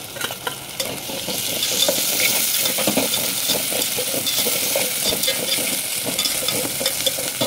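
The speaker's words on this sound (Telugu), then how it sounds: "ఇవన్నీ వేసుకొని కలుపుకోవాలి." Spices and green chilli paste fry loudly in a pan for soya biryani, with a dense, steady sizzle and continuous close stirring and scraping.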